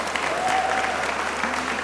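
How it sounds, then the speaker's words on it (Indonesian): Studio audience clapping on a talk show, a brief, dense and steady round of applause heard close and filling the whole moment. "Kita tepuk tangan dulu."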